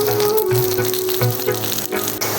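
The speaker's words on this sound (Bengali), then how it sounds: "কারি পাতা এখন আলু ভাজার মধ্যে আমি দিয়ে দিচ্ছি" Curry leaves dropped into potatoes frying in hot oil give a loud, continuous sizzle and crackle, close up and with no voices.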